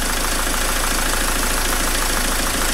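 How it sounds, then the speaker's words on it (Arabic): Dacia Logan dCi diesel engine idling during a diesel cleaning treatment, a loud, steady close-up rumble with an even knocking clatter throughout. "نشوفوا تو الموتور قداش ولا ارتاح اكثر"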